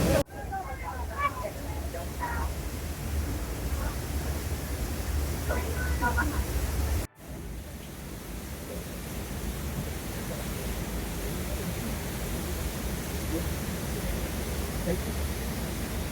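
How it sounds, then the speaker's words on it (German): Waterfall near Baños, Ecuador, roaring steadily as a dense, loud broadband rush heard from inside a tunnel, with a brief cut partway through and faint voices early on. "Jetzt haben wir den Wasserfall komplett gesehen."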